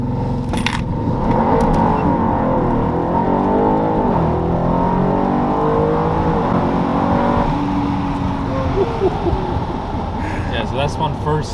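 A tuned 750hp all-wheel-drive Audi RS7 accelerates hard through first, second and into third gear, its engine note climbing and dropping at each shift under people talking in the cabin.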